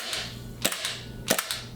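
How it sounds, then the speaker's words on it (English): Movie-style pistol gunshot effects with a light, snappy airsoft-like character: two quick bursts of sharp cracks, each a pair or trio of close reports, over a faint steady background hum. "You hear the that actually sounds closer to what an airsoft pistol sounds like than a real gun"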